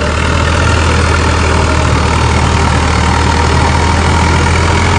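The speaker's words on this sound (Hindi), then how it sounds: "ये लो भाई एचएमटी 3511" An HMT 3511 tractor runs at around 1800–1900 rpm pulling a 7-foot Punni super seeder, its engine a loud, steady, close drone with no pauses and no voices over it.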